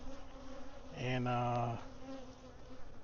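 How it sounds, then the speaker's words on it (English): Bees buzzing in flight around a hive while a beekeeper works, a loud close buzz rising for under a second amid a steady background hum, with a brief spoken word. "there are going to be some bees fly back to here"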